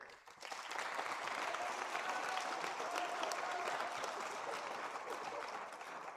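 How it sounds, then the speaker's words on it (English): An awards show audience breaks into applause, clapping swelling quickly after a brief pause and holding as a dense, steady roar from a full room for several seconds. "I want you to give a round of applause"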